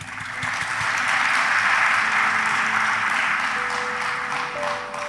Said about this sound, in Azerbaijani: İstəyirəm onları da alqışlayasınız.